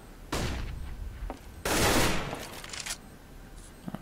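Two loud bursts of rapid automatic fire emptying a magazine in Counter-Strike on de_mirage, the second longer, followed by fainter scattered shots and clicks.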